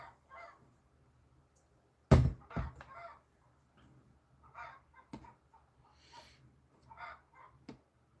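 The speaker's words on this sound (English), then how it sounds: "So yes, there are chickens in the background." Chickens in a nearby coop give quiet, scattered clucks and squawks, with one sharper louder call early on and softer intermittent bursts after it against a near-silent background.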